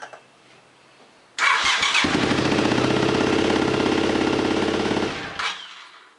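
A Suzuki TL1000 motorcycle engine catches after a brief crank and runs loud and rough for several seconds, close by, before cutting off with a short sputter.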